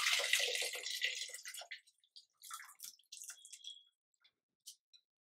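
Water poured into a pot of raw tamarind pachi pulusu, a Telangana-style soup, in a home kitchen: a splashing pour for about two seconds, then scattered drips and small splashes tapering into quiet.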